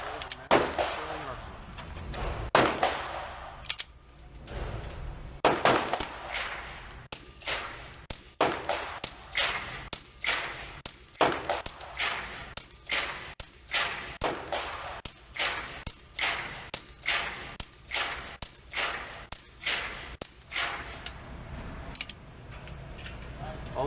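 Suppressed shots from a SilencerCo Maxim 9 pistol crack out in a long series of sharp reports, fast and evenly spaced, outdoors at a 7-yard range, with a few brief pauses between strings.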